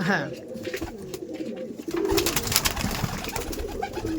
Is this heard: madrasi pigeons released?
yes